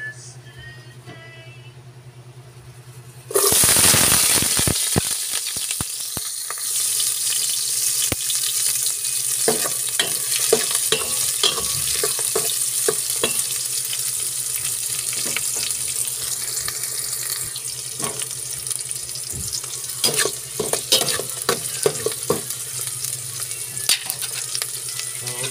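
Onions drop into hot cooking oil and burst into a loud, steady sizzle that carries on for over twenty seconds, with scattered crackles and pops and occasional stirring clinks, no talking.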